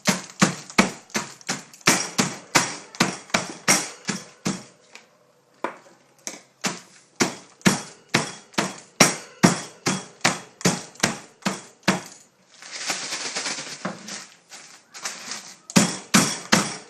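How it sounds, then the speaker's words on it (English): Biscuits crushed inside a sealed bag with a rolling pin give a steady run of sharp, close crunching thumps in quick rhythm, pausing briefly twice before resuming, with no talking. "Seal the bag, let some air out. And then take your rolling pin."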